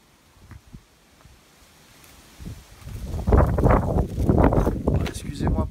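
Gusty wind buffets the microphone outdoors at an abandoned hamlet in the Ardèche, starting faint and swelling after a few seconds into loud, continuous low rumbling bursts.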